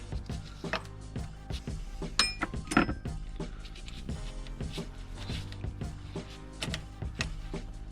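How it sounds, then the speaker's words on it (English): A 14 mm wrench works loose the valve cover bolts on an engine during an injector and valve cover gasket job, giving close, irregular metallic clinks and clanks with short ratcheting bursts and no talking. "We're just going to loosen these bolts and loosen them enough."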